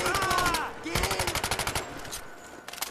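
In the VR game Medal of Honor: Above and Beyond, machine guns fire in rapid bursts of sharp, loud shots, one dense rattling run followed by another short burst, with a voice briefly heard at the start.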